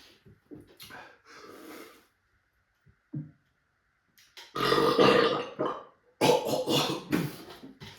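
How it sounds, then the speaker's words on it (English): One deep, drawn-out burp comes after a swig of Fat Boy Baltic Porter beer, loud and close, then a second rough rumbling burst, with quiet breathy sounds before them. "that was the deepest burp."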